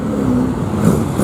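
A Ford Escort Cosworth passes at a Ford RS meet, giving a steady, moderately loud engine note that swells slightly as it goes by.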